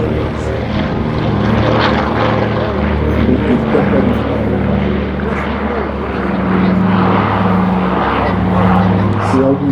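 A propeller airplane at an airshow makes a go-around, its steady loud engine drone holding throughout with a slight swell in power, while a voice talks over it.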